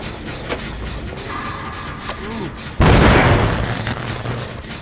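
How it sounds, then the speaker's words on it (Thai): A sudden loud explosion boom in Dead by Daylight Mobile bursts in midway and decays over a couple of seconds, following quieter game sounds and faint tones. "ระเบิดเลยฮะ"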